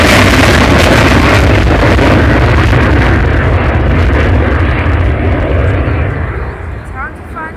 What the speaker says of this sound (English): When this aeroplane lands in October, you will never see another Vulcan fly again.